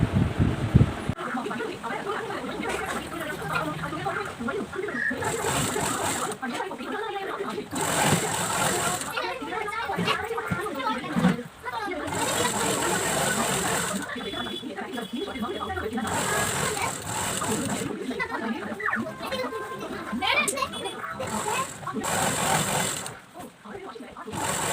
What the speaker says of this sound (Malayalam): താഴ്വശത്തുനിന്ന് ഇവിടെ നിന്ന് സ്റ്റിച്ച് ചെയ്ത് തുടങ്ങി ഇങ്ങനെ കൊണ്ടുവന്ന് സ്റ്റിച്ച് ചെയ്ത് എടുക്കണം.